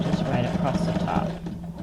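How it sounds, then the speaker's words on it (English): A sewing machine runs a zigzag stitch across paper guest checks being made into junk journal cards, giving a steady, close mechanical whir with a rapid needle rhythm throughout. "I'm just going to put another zigzag stitch number 4"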